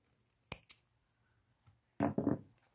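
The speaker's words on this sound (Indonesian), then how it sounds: "Kita gunting." Scissors snip knitting yarn in two quick, sharp cuts close up in a quiet room, followed a moment later by a softer rustling burst as the yarn is handled.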